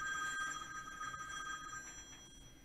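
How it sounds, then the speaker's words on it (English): A telephone rings with steady electronic tones, fairly faint and continuous, in a quiet room during a talk about kingfish and king mackerel fishing. "I guess I need to turn the phone off when I'm doing videos, huh?"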